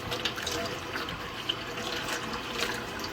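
A nut milk bag is rinsed under a running tap, a steady spray of water broken by small splashes and drips, close and continuous with no voices.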